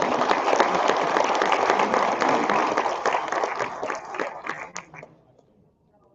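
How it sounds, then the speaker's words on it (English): A crowd at a state auctioneer bid-calling championship gives the finalists a round of applause, dense clapping that holds strong for several seconds and then thins out and dies away to near silence. "give all of our finalists another round of applause"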